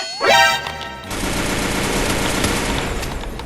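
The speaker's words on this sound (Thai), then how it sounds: "โอ้โหปืน มันคือลูกซองไงผมเอาสกาไปสู้กับลูกซองมันไม่ได้อยู่แล้ว" Shotgun fire rings out in a shooter video game as one loud blast, followed by a dense, sustained rattle of gunfire.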